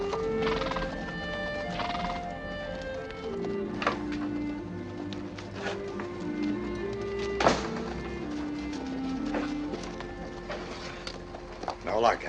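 A horse whinnies and its hooves clip-clop in a 1958 film scene, a steady mid-distance mix with a musical score underneath and a few louder hoof thuds near the end.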